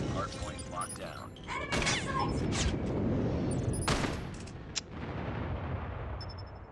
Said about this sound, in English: Friendly airstrike incoming.